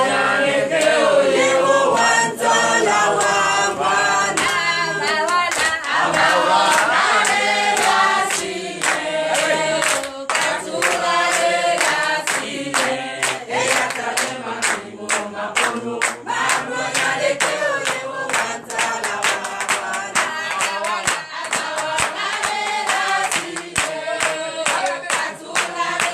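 A church congregation at a night deliverance service cheers, shouts and claps loudly and continuously, a dense crowd roar with rhythmic applause sustained throughout.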